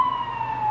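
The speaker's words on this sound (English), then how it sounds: "Police sirens" A police siren wails steadily for a brief moment, loud and continuous, with a slight downward drift in pitch.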